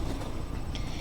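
A train in the Minecraft Create mod runs along its track while carrying cobblestone, a brief, steady rumble with faint rhythmic clatter and no voices.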